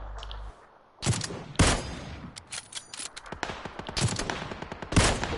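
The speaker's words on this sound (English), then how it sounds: "He's shooting at me." Gunfire in the battle royale game PUBG during a three-player squad match: several sharp shots and short bursts crack out at close to medium range, separated by brief gaps, with no talk over them.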